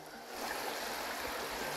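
A mountain stream on a backcountry hike toward Karamea Bend Hut in New Zealand, giving a steady, soft broadband rush of flowing water with no voices.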